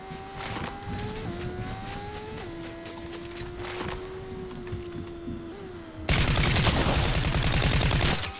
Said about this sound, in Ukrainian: хтось їде на мотику